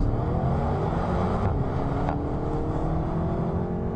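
A SEAT Leon Cupra with a DSG gearbox racing on a track at well over 100 mph, its engine a steady, loud in-cabin roar broken by a couple of brief, quick gear shifts.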